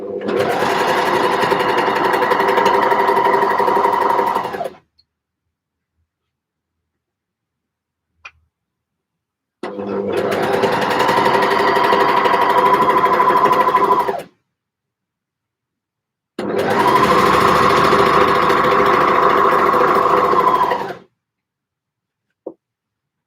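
A sewing machine runs three loud, steady bursts of stitching on knit fabric, each about five seconds long, separated by quiet pauses with a couple of faint clicks.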